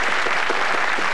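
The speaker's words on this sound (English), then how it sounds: "I think she deserves a round of applause for that" Studio audience on the 1986 Blockbusters quiz show gives a round of applause for a contestant, a short, dense, steady burst of clapping heard on its own.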